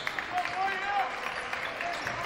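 A high school basketball crowd at a varsity boys game against Sheboygan North, scattered applause and crowd noise running steadily under a commentator's continuous talk.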